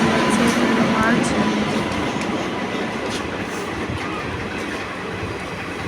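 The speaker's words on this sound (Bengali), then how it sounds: "আস্তে আস্তে ট্রেন যাচ্ছে" Train rolling slowly near a station, a constant loud rumble with rail clatter and faint wheel squeal, close by and steady throughout.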